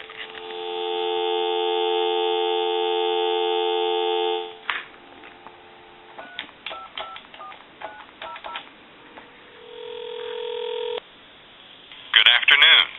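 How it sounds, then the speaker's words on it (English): A Cortelco 2554 wall telephone gives a steady, loud dial tone for about four seconds, then a quick series of short touch-tone dialing beeps with brief gaps, followed by a lower sustained line tone and a final burst near the end. "Go ahead and give you some dial tone."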